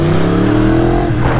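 A Yamaha R1 sport motorcycle with roughly 200 horsepower revs loud and close, its engine droning at a steady held pitch before shifting slightly near the end, with no talking.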